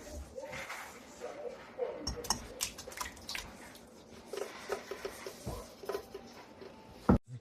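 Thick homemade yogurt poured into a strainer lined with cheesecloth, giving soft wet squishes, glops and scattered drips close by, ending with one sharper knock.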